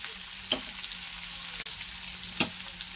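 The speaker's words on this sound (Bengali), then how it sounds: "ওই জন্য একটু আলাদা করে ভালো করে ভেজে নিচ্ছি" Capsicum frying in a pan gives a quiet, steady sizzle, broken by a couple of brief stirring scrapes.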